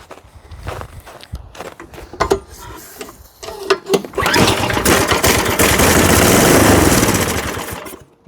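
A small snowblower engine with its choke opened runs loudly and close, starting with irregular sputtering pops before settling into a steady, sustained roar that fades slightly at the end.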